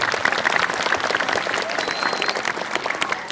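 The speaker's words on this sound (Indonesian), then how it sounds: "Tepuk tangan buat teman-teman." A crowd of school students claps steadily and enthusiastically, dense applause filling the whole stretch at close range.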